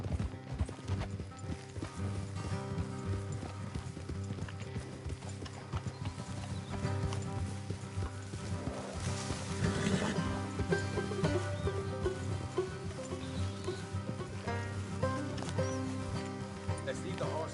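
Steady clip-clop of horse hooves trotting through a busy Red Dead Redemption 2 game scene with music and mechanical sounds, occasional whinny, voices talking over it.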